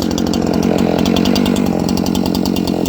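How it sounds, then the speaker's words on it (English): A chainsaw cuts through an elm log with the throttle feathered, its loud buzzing engine chattering in quick pulses as the chain bites into the wood, close and continuous. "I'm feathering the throttle through that cut just to give myself, just to let the saw kind of"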